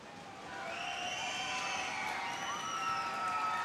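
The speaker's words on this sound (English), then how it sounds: "crowd's getting into it" Crowd at a high school boys basketball game, Mainland Buccaneers at Palm Bay Pirates, swells into sustained cheering and whoops at the half-second mark and holds loud, steady and dense through to the end.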